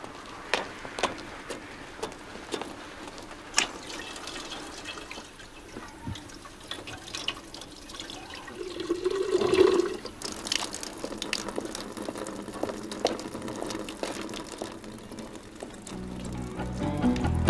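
Water splashing and trickling at a village fountain in rural Spain, a continuous close wash with scattered drips and clatters that grows busier toward the end.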